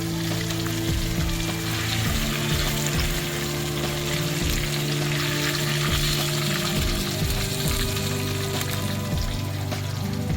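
Fish pieces fry in hot oil with a loud, continuous sizzle and crackle, close by and unbroken throughout, with occasional bubbling bursts.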